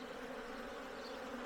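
Honey bees buzz in a steady, dense drone while bee packages are being installed into a hive, close and continuous with no voices.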